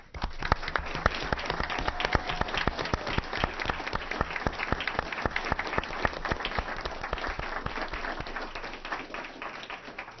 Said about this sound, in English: please join me in applause for Engineer Extraordinaire Kelly L.